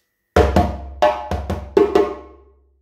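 A djembe plays a beginner Yankadi pattern, a sequence of about seven open tones and slaps in an uneven rhythm, close and loud, the last strokes ringing out before silence.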